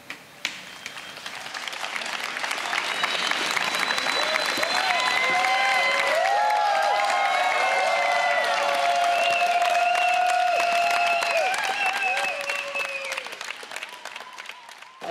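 People on a terrace applaud, clapping that swells into full, sustained applause mixed with whistles and cheers, then fades toward the end.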